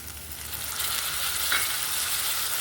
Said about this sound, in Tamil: ஒரு 3 நிமிஷம் வதக்கிக்கலாங்க